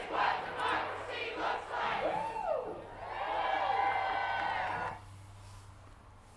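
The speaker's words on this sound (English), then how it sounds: "Today, a massive crowd in front of the state capitol as thousands of people gathered to protest President Trump and Elon Musk" A massive protest crowd in front of a state capitol roars and shouts in rising and falling waves, heard from a distance with a steady low hum underneath before the cheering cuts off.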